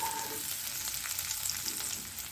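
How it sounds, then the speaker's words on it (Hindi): Sliced onions shallow frying in oil for Hyderabadi veg biryani, a steady broadband sizzle and crackle that stays close and even throughout, with no talk over it. "मैं ये प्याज को डीप फ्राई नहीं कर रही हूँ, शैलो फ्राई कर रही हूँ।"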